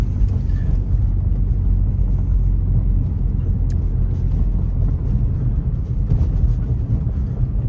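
A car driving along a road at Floyd Bennett Field in Brooklyn, a steady low rumble of engine and tyre noise heard from inside, continuous and fairly loud with faint bumps.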